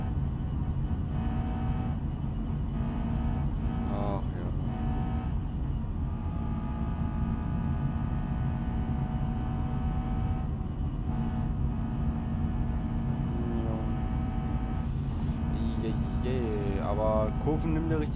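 Car driving in the BeamNG.drive video game, a steady engine and road drone throughout with faint tyre and rattle sounds, no talking.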